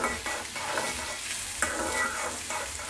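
Chopped tomato frying with onion in a pan, a dense continuous sizzle with soft scraping of stirring at intervals, close and alone without speech.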